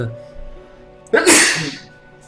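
A single sharp allergy sneeze bursts out close and loud over a quiet indoor background, fading into a brief breathy tail.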